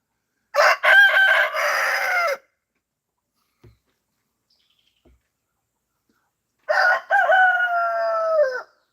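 A rooster crows loudly twice, two long cock-a-doodle-doo calls separated by several seconds of near silence.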